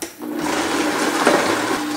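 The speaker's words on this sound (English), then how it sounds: "It's always good to treat your blender with love and be sure to turn it down." A blender whirs steadily while making pesto, a loud, continuous motor drone with a churning, watery texture throughout.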